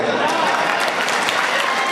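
A mushaira audience claps steadily in dense, continuous applause that fills the hall at an even level without pause.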